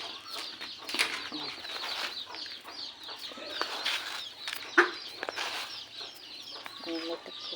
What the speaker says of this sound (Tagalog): Talak ang manok.